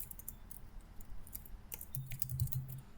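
Computer keyboard typing, a short run of soft, quick key clicks clustered in irregular bursts, close but quiet, with no speech.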